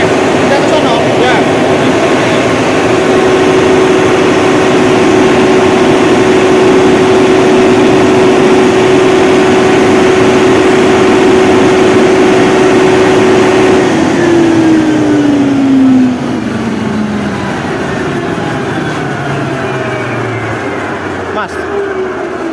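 A Mitsubishi 1250 kVA generator set engine runs at a steady loud drone with a sustained tone, then its pitch falls as the engine winds down near the end.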